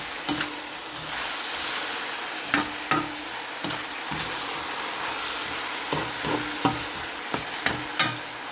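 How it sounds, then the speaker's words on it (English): Crimini mushrooms sauté and sizzle in a pan with a steady frying hiss, broken by scattered scraping knocks of stirring at irregular intervals. "in the process of cooking these mushrooms"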